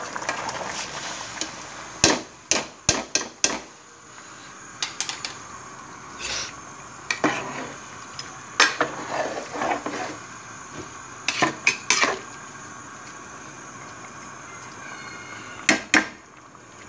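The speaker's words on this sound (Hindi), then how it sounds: "अब मैं इसमें चावल डालूँगी जो कि मैंने भिगा के रखा था" Soaked rice, a kilo of it, being tipped into boiling chicken yakhni in a pot for Kashmiri pulao, heard as scattered clinks and scraping of utensil against the pot, fairly quiet, with sharp knocks at intervals.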